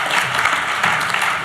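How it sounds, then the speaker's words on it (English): A brief, loud burst of continuous applause from the audience at a health policy leadership summit luncheon, filling the short moment on its own. "let's give another round of applause for our advocate experts."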